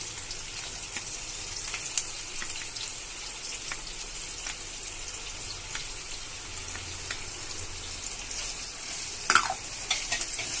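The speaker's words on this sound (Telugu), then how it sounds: "మసాలా ఆయిల్లో బాగా మిక్స్ అయ్యేటట్టు ఆయిల్ బాగా మసాలా వేపుకోవాలండి." Ground masala spices fry in oil for an appadala masala curry, giving a steady close hiss and sizzle with occasional clinks and scrapes of a stirring utensil against the pan.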